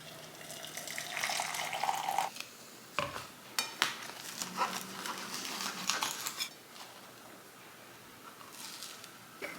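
Hot water pours into a cup holding creatine at close range, a soft splashing stream broken by a few clinks of the cup, fairly quiet with no talking.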